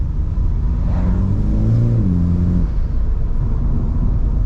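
An F56 Mini Cooper S engine rumbling loudly from inside the car, rising in a rev and then settling again under a heavy, steady drone; no distinct exhaust pops stand out.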